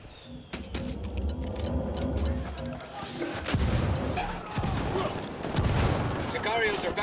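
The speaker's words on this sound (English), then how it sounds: "I'm calling for indirect fire" Indirect-fire artillery in Ghost Recon Wildlands pounds the ground in heavy booming blasts and rumbling crashes mixed with crackling gunfire, loud and chaotic, while voices talk over the barrage.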